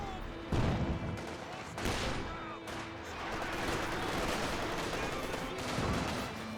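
Machine-gun fire from an MG34 in a Company of Heroes 2 battle, with dense bursts and booming impacts blending into a continuous wash of combat noise, loud and close, with a voice talking over it.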